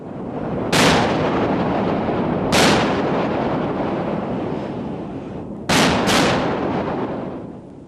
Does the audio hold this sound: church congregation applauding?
no